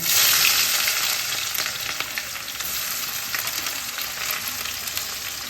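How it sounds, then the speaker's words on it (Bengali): Two small-to-medium chopped onions fry in hot oil with whole cardamom and cinnamon in a pan, a loud, dense, continuous sizzle with faint stirring underneath and no talking. "এবার আমি দিয়ে দিচ্ছি দুটো ছোট মিডিয়াম সাইজের পেঁয়াজ কুচানো"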